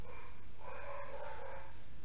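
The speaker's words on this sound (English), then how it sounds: "my dog's barking at nothing again." A dog barks a few times in the background, somewhat muffled and distant behind a steady hum of room noise.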